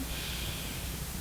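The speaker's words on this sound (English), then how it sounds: "So you take your breath in" A single inhaled breath before a step push-up, a close, steady airy intake lasting about a second.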